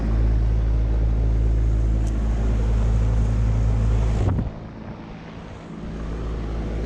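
Air conditioner condenser fans, one a 2010 Carrier Comfort unit, whooshing and droning loudly like helicopter blades, then dropping abruptly as a unit shuts off, leaving a quieter steady hum.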